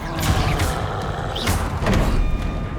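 Bombarda blasting spell impacts in Hogwarts Legacy, a few heavy thuds and booming hits over a dense battle mix, loud and close.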